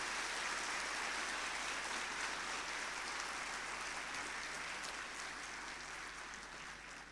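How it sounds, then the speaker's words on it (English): A large convocation crowd in a hall gives sustained applause for absent parents, a broad, even wash of many clapping hands that is distant and steady, easing off slightly toward the end. "Let's all give a big round of applause to all your parents, even though they are not present here."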